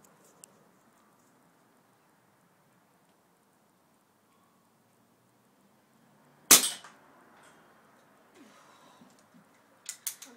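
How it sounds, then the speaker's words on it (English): A single sharp, loud crack of an air rifle shot fired at batteries stands out against near silence, followed by faint rustling and a couple of small clicks. "take this shot with the air rifle"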